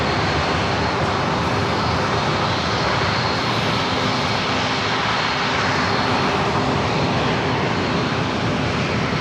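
A Southwest Airlines Boeing 737 MAX 8 arriving at San Diego airport roars loud and steady with a broad, continuous engine rush throughout.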